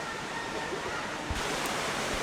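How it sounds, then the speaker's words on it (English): Waterfall cascading through jungle undergrowth inside the Eden Project in Cornwall, a steady broadband rush of falling water that stays constant and fairly close throughout, with no voices over it. "Look at that lovely cascade waterfall coming through the jungle undergrowth there."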